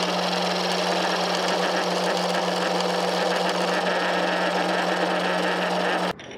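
Steady machine whine and hum from a lathe turning a steel bar-stock shaft, continuous and loud for about six seconds before cutting off abruptly.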